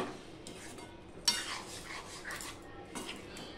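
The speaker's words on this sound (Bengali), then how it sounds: "এবার সম্পূর্ণটা আমি মিশিয়ে নিচ্ছি" Pointed gourd curry with homemade garam masala stirred in a pan, with soft scraping and light clinks of a spoon against the pan over a faint background sizzle, close and quiet.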